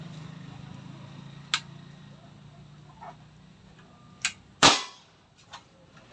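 A PCP airgun, the Meteor model, fires with a few sharp, dry pops: a smaller crack, a second one, then a louder, closer shot that rings briefly before quiet returns.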